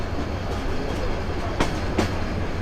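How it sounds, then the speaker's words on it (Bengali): A train leaving Kamalapur railway station rumbles steadily as it gains speed, a loud, continuous roar from inside with two sharp clacks of the wheels over rail joints. "ট্রেন বেশ গতি নিচ্ছে, ছাড়ার সাথে সাথে আমরা কমলাপুর রেলওয়ে স্টেশন পার করে যাচ্ছি।"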